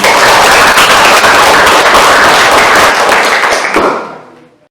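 Classroom applause for the second discussion group: dense, loud clapping from many hands close by, sustained for about four seconds before tapering off.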